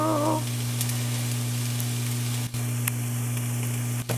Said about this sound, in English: So this has been sauteing for about a good, I don't know, 6-8 minutes.